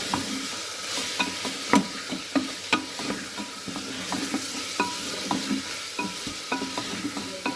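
Chicken pieces frying in butter in a pan, giving a loud, steady sizzle with frequent rhythmic spatula scrapes and taps, close and alone.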